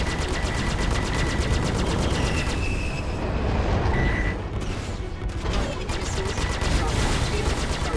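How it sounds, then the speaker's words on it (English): Star Citizen space combat: rapid bursts of automatic gunfire and explosions, loud and continuous with a brief lull midway, sustained electronic tones over the top. "I love the explosions in this game."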